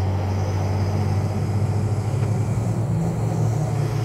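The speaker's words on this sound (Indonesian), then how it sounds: "Ada truk tangki juga." A tanker truck labors up the Bukit Kodok hill, its engine a steady, loud, low drone that holds without a break from start to finish.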